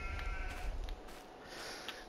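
Sheep bleating on a farm in Farming Simulator 22, several bleats from the flock heard over a low rumbling ambience, fairly close and moderately loud, with no talking.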